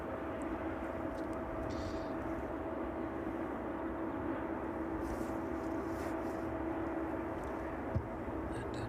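An Aerologic Boeing 777 cargo jet taxis at East Midlands Airport in the evening, a steady broadband engine rumble with a sustained tonal whine, heard from some distance and fairly constant throughout.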